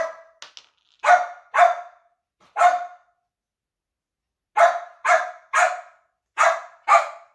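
A deaf dog barking loudly and close, about ten sharp single barks spaced out with long quiet gaps between them, no other sound.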